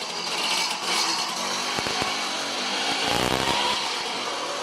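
A Romet Ogar 200 motorcycle engine idles nearby with a rough, buzzing two-stroke rattle, steady and loud throughout, with a few sharper knocks partway through.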